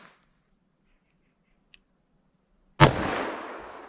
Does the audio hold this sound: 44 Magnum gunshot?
yes